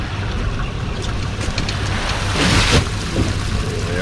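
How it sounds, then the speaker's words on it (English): Boat motor running offshore on Tampa Bay, a steady loud engine drone mixed with water wash and wind, swelling briefly midway. "Motor's kicking."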